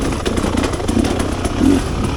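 Rieju Ranger 300 two-stroke dirt bike with an FMF Gnarly exhaust lugging at low revs on a tight trail, a close, steady throbbing engine with rough pulses and a slight swell near the end.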